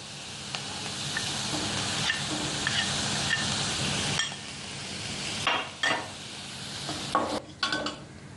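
Coriander seeds and gram flour stirred and dry-roasted in a pan, giving a steady soft hiss with scraping spoon strokes and a few sharper clinks toward the end, heard without speech.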